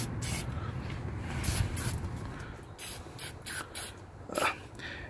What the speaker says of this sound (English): you're going to give it a little spray just to get any contaminants and stuff off